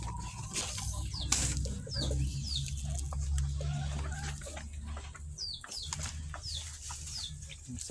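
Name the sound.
chickens clucking while waiting to be fed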